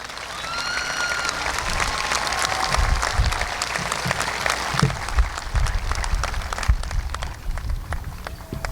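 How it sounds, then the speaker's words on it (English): A high school graduation crowd applauds the graduating classmates, dense, loud, continuous clapping close by, with a few cheers and whistles over it. "Please give your fellow classmates a round of applause."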